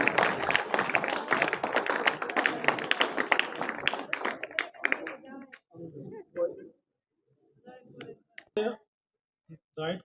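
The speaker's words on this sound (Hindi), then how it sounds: "जोरदार तालियों से स्वागत कीजिए।" Audience at an award ceremony bursts into loud, dense clapping to welcome honorees receiving certificates of appreciation; sustained applause for about five seconds, then fading to scattered claps and murmured voices.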